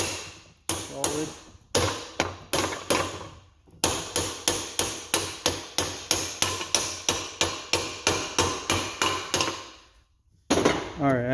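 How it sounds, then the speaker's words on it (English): A hammer drives a torque arm bushing into the rear differential of a 2006 Toyota Sienna. Loud, close metallic blows come in a quick, steady rhythm, with a short pause before a final burst. "I don't think I can hammer that in anymore"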